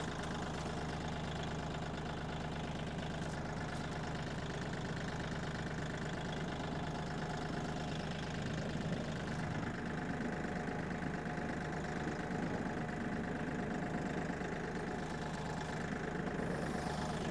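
A tractor engine idles on a winter homestead, making a steady low rumble with a faint knocking pulse. It runs alone at a constant level.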